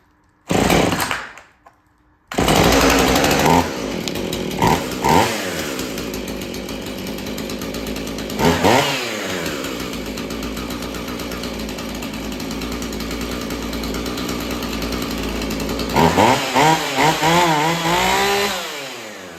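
A Husqvarna 450 chainsaw engine, freshly fitted with a new carburetor, starts and runs loud and close, idling with a steady buzz and revving up in several sharp bursts.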